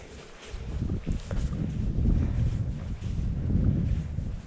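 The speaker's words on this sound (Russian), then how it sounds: "Ветер очень сильный." Strong wind in a forest buffets and rumbles in low gusts that rise and fall for several seconds, with faint rustling in the background.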